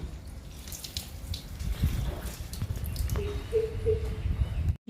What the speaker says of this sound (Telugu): ఈ మొక్కకు కూడా పోస్తున్నాను